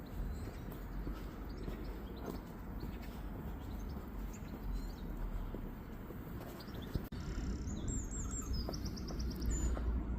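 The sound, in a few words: water pigeon calling near canal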